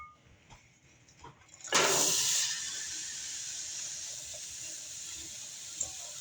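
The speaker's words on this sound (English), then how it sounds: "we're going to take our peppers and our onions and we're going to add it to this oil" Peppers and onions hit hot oil in a pan with a sudden loud hiss that settles into a steady, close sizzle continuing to the end.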